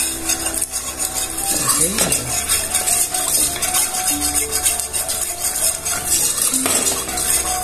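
Flour cooking in melted butter for a vegetable lasagna sauce, a utensil scraping and clinking against the pan in repeated stirring strokes over a soft sizzle, with background music and a brief spoken word.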